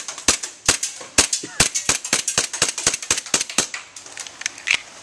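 A gun fires rapidly and repeatedly through two magazines, a string of sharp, close cracks in quick succession with a short break partway, loud and dry against a quiet background.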